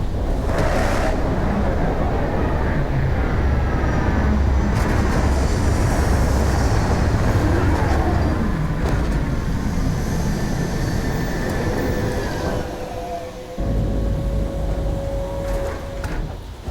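Spaceship landing in the Starfield video game: a loud, continuous deep engine roar and rumble with whooshing turbulence, briefly dipping near the end before resuming, with no talk.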